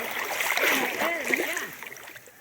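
Knee-deep water splashes and swishes around legs as someone wades through it, a steady broadband wash close by, with people talking over the sloshing.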